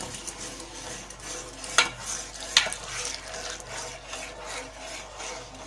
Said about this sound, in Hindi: अब हमें इसे लगातार चलाते रहना है ताकि ये लग ना जाए